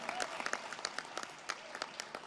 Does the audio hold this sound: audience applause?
yes